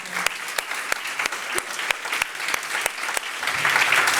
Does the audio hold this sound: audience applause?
yes